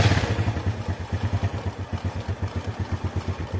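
A motorcycle engine catches and settles into a loping idle, its low, regular pulses close and steady throughout.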